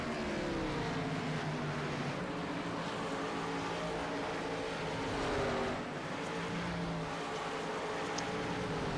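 NASCAR Cup Series stock cars running flat out on track during a 2003 race broadcast, a steady loud engine roar with droning pitch sweeps as the cars pass, continuous throughout with no talk.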